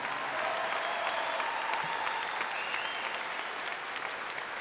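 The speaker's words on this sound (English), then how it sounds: "Ladies and gentlemen, please join me in giving a round of applause to these brave young men and women" Sustained applause from a large crowd at a high school graduation ceremony, a dense, even wash of clapping that holds steady throughout at moderate distance.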